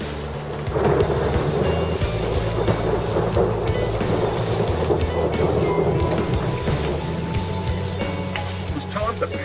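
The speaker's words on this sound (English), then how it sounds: "And the thunder rumble." Thunder rumbles low and sustained through a storm blowing in ahead of a mistral, mixed with steady rain and the patter of drops, loud and continuous throughout.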